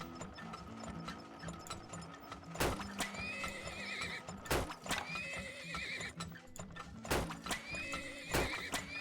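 Horses in the video game Turmoil whinny several times in high, wavering neighs. Sharp hoof clops and mechanical clicking punctuate the steady background, heard fairly close and without talk.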